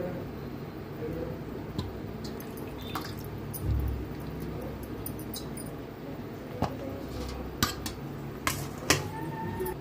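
Bell peppers are rinsed, shaken to clear the seeds and set on a plate, bringing faint dripping water, soft handling noises and occasional light clinks of dishes against a low background hum.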